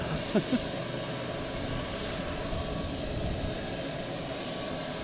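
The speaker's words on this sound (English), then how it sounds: "Funny hearing the prop plane go" A propeller airplane flies past at Boston Logan Airport, its steady engine drone filling the whole stretch as a continuous, fairly loud roar outdoors, with no talk.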